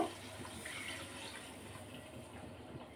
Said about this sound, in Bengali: এখন আমি ঝোলটা অ্যাড করে দেব